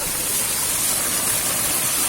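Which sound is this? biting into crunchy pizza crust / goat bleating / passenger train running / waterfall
waterfall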